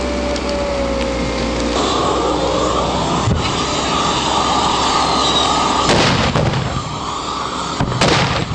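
Loud carbide cannon bangs at a carbide shooting event, heavy booming blasts with rumbling echo, two sharp strong reports standing out near the end over a continuous loud outdoor din.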